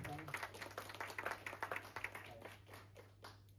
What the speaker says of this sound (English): Please clap your hands for him.